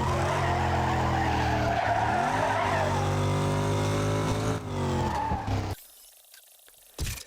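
Tires skid and squeal through a long drift in the Need for Speed Carbon racing game, loud and sustained over a droning engine, then cutting off abruptly near the end before a brief burst returns.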